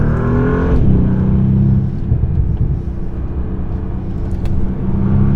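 A 2025 Bentley Continental GT Speed with a big front V8 accelerates hard to overtake another car, a loud deep engine roar that climbs in pitch, drops with a gear change, then builds again, close and continuous with no talk.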